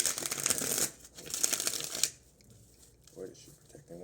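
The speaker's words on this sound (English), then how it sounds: "One more shuffle." Tarot cards riffle-shuffle in two quick close bursts, crisp and papery, then fade into quiet handling noises.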